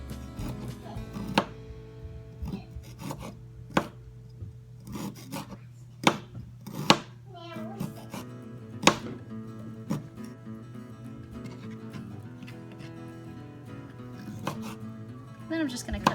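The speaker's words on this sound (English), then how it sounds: "all I do is just slice it as thin as I can" Knife slicing skinned chicken as thinly as possible for pressure-cooker teriyaki, a steady run of close, soft chopping taps against a board with a few sharper knocks, no talk.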